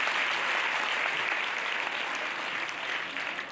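An audience at a motivational talk claps in sustained, dense applause that stays steady and fades slightly at the end.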